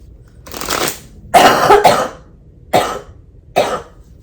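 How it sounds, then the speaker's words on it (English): Four harsh coughs come in separate bursts, the middle one a double cough, close and loud with short pauses between. "I cannot shake this cough."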